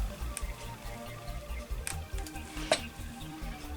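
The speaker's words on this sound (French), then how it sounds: "Et je vais venir mélanger les morceaux de pâte avec de l'eau." Pieces of Inka Gold paste stirred and mashed with water, a quiet wet scraping with a few sharper clicks against the container, close and faint.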